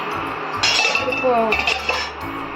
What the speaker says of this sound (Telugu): మూత తీసి చూడండి